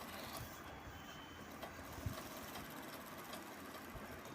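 Sewing machine stitching a blouse front panel, a faint, even mechanical hum running steadily throughout with no voices.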